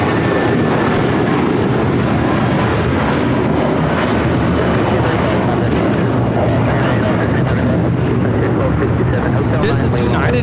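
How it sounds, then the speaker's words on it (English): A United Airlines Boeing 757-300 bound for Washington Dulles takes off at LAX, a loud, sustained, rumbling engine roar with crackling texture that stays strong throughout, with people talking underneath. "1635 taking off to Washington Dulles on the 757-300"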